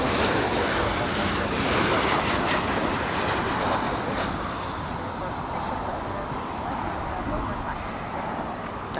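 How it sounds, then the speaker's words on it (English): A Boeing 737 airliner touches down at LAX, a loud broadband roar of engines and rushing air that holds steady, then eases slightly as the jet rolls out, with a faint talking voice under it. "Nice touchdown there by the 7-3"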